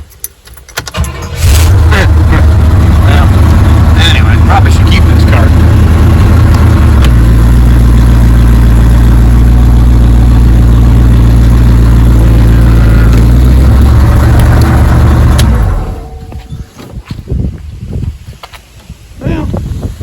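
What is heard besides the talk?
1968 Pontiac Firebird engine starting and idling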